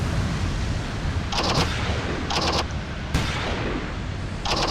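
An enemy British universal carrier fires in the WWII strategy game Achtung Panzer, producing four sharp gun bursts spaced about a second apart over a constant rumbling battlefield background.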